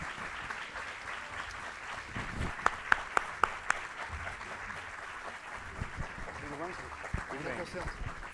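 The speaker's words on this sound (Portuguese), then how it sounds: "Eu peço palmas para o Rui Tavares." Audience applause for Rui Tavares at a public talk in Portugal, a sustained crowd clapping throughout, moderately loud and even, with a few sharp distinct claps near the middle and voices mixed in.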